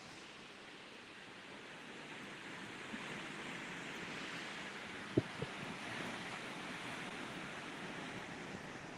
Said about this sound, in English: They live by the ocean.